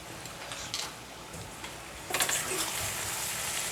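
Chicken fry in a pan of oil being stirred with a spoon, a soft steady sizzle with scraping stir strokes that grow louder and busier partway through, close and alone.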